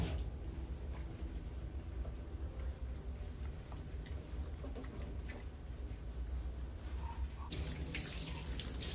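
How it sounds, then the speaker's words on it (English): Lukewarm tap water runs steadily as a Yorkshire Terrier is rinsed during grooming, a continuous close splashing hiss with no talk. "Rinse her really good using a lukewarm water."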